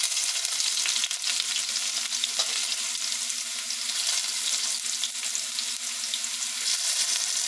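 Potatoes frying in a cast iron pan make a close, steady hiss and crackle of hot oil that holds an even level throughout without any voices.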